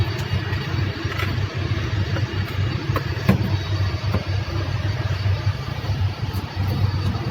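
A newly installed Bitzer compressor on a Zamil HVAC unit runs with a steady low mechanical hum and faint rattles, constant and fairly close, with no voices over it.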